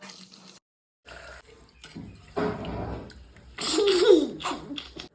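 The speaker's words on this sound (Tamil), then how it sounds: "நல்லா கழுவிட்டு அப்புறமா தான் ஊற வைக்கணும்." Water sloshing and swishing as millet grains are rinsed by hand, in short splashy bursts close by, with a brief high voice-like sound near the end.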